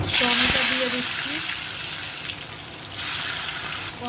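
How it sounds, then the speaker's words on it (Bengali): Tomatoes added to hot oil in a wok, a loud, close hiss that bursts at the start and then settles into a steady frying sizzle, with a brief surge partway through. "টমেটো দিয়ে দিচ্ছি"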